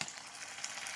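Liver goes into potatoes frying in oil with green chillies, and the pan gives a steady, close, even sizzle with no voice over it.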